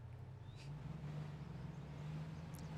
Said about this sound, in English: Oh no, it's just this truck.